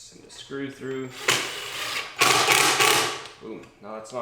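A screw is driven into pre-drilled wood with a power driver on a wooden bow hanger, two sustained whirring bursts of a few seconds each, close and loud, with a voice speaking before and after.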